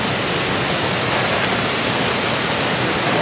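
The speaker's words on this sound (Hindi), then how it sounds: "इधर ये छोटा सा डैम है और डैम से पानी बिल्कुल सीधी जा रही है वो नीचे" Water rushes down from a small village dam, a loud, constant broadband roar filling the scene without pause.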